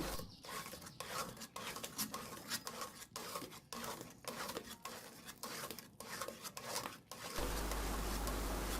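Spatula stirring beaten eggs into egg halwa in a pan, rhythmic scraping strokes repeating about twice a second, close and moderately quiet, giving way to a steady hiss near the end.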